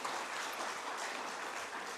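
An audience applauds at an outdoor city-branding launch event in Penajam Paser Utara, a dense, even clapping that carries at moderate loudness for two seconds without speech.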